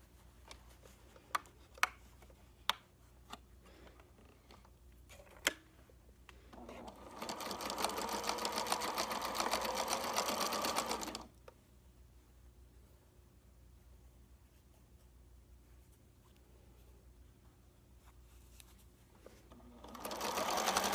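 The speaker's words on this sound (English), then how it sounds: "I'm ready to sew mine closed." Close and steady, a sewing machine stitches a rice-filled heating pad closed in one long run, then starts again near the end, with a few soft clicks and handling taps in the quiet before it.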